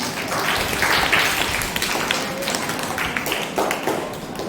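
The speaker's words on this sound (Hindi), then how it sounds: "तो सभी एक बार अपने खुद के लिए ताली बजाओ।" Children at a Brahma Kumaris summer camp in Burhanpur clapping for themselves: a loud, ragged burst of group applause that carries on unevenly for several seconds, close by in an indoor hall.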